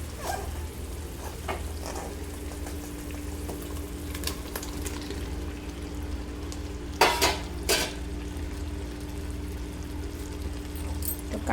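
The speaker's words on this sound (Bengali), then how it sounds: "তো কাঁঠাল দিয়েও মশলাটা ভালো করে কাঁঠালের সাথেও মিলিয়ে নিব আর দিয়ে কিছুক্ষণ ভাজবো" Boiled jackfruit and potatoes fry with spices in a pan, giving a steady low sizzle throughout with a few louder scraping stirs near the middle; no one speaks.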